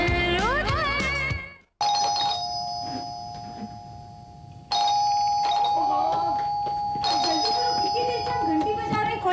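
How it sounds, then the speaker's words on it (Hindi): A doorbell chimes loudly, then rings again twice in long sustained electronic tones, with faint voices underneath. "घंटी बजा रहे, खोलता नहीं क्या?"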